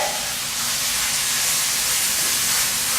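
Canned fire-roasted diced tomatoes hitting a hot pan, a loud, steady hissing sizzle that spreads and holds throughout, with no one talking.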